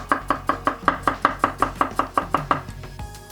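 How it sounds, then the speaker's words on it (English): Knife chopping through radishes on a cutting board: about fourteen crisp, evenly spaced chops in quick succession, close and clear with no talking, ending with a short scrape. "Trim them, slice in half, then slice it half more."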